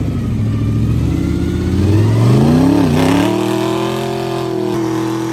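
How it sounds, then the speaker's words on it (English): Pontiac hot rod doing a burnout in a burnout pit, a loud close engine roaring as the revs climb, dip briefly and settle into a sustained high drone. "We're going to watch the Pontiac do a burnout."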